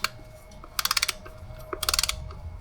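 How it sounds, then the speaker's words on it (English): A torque wrench ratchets while tightening a crankcase filter on a 6.7L Dodge Ram diesel, with two close bursts of rapid metallic clicks separated by a short pause and a faint steady whine underneath. "I got my torque wrench set at 85 inch-pounds."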